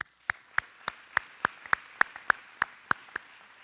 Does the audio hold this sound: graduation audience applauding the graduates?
yes